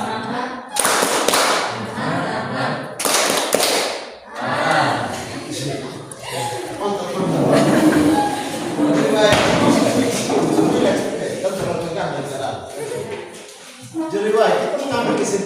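A school class in an Indonesian lesson performing the tepuk semangat chant, with rhythmic group claps in sharp bursts alongside loud, energetic chanting voices.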